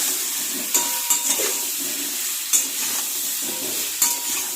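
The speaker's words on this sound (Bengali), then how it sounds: "একটু নাড়াচাড়া করে নেব" Lentil fritters and grated coconut sizzle steadily in a hot pan while a spoon scrapes and knocks against the pan in a few separate stirring strokes, close up, with no talking.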